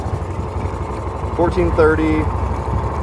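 A Honda motorcycle engine idles underwater with an O2 delete fitted, a steady low rumble running throughout while someone speaks over it.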